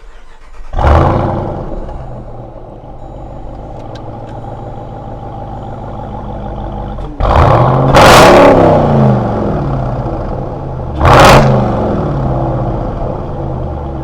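Supercharged 707-horsepower 2018 Jeep Grand Cherokee Trackhawk revs hard from a loud steady idle, its exhaust roaring in two sharp bursts near the middle and end, close by with no talking.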